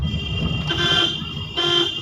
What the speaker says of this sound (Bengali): হর্ন মারো,